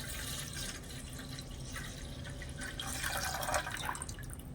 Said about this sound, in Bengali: এবার আমি দুধটা ঢেলে দেব।